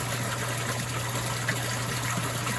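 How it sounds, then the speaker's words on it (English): Water falls steadily into a heated koi pond cavern, making a dense, continuous splashing rush over a constant low hum. The sound is close, fairly loud and unchanging throughout. "I have to speak louder now because of the noise from the water falling"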